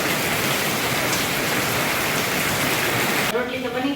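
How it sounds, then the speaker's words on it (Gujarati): Heavy monsoon rain pours steadily, a dense, loud hiss filling the scene, then eases abruptly near the end to a lighter patter with a voice faintly present. "ધોધમાર વરસાદ ચાલુ થઈ ગયો છે થોડોક ધીમો પડી ગયો"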